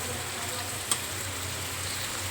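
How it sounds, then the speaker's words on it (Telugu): Chicken pieces frying with salt in a pan give a steady, even sizzle with one small pop, heard alone without talk. "కొంచెం సాల్ట్ వేసి ఫ్రై చేస్తున్నాను"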